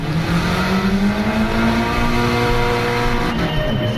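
Honda Civic Type R FK2 engine revving, loud and close, a steady high-pitched drone with the pitch climbing then holding, no voices.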